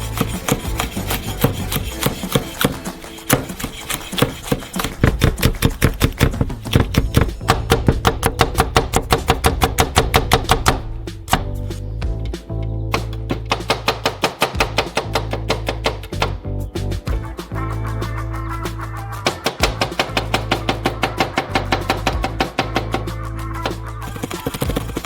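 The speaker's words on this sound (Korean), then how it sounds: "고추도 밑간할 거예요. 원형으로 썰어주세요." Chili peppers sliced into rounds with a knife on a cutting board, a rapid, steady run of sharp chopping taps close by with short pauses, no talking.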